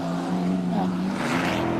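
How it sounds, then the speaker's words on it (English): Old race car in the Eastern Cape 400 off-road rally roars past at speed, a rough engine note rising and shifting over under two seconds, with voices mixed in. "belting along in an ancient race car"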